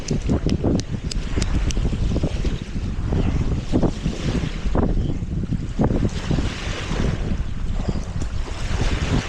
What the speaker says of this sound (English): I bet this wind dies down here in a little bit.